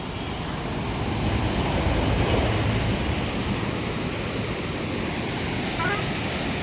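Floodwaters of the Godavari and Krishna rivers rush past in a broad, loud, steady roar of churning water, mixed with some wind buffeting, and no voices heard.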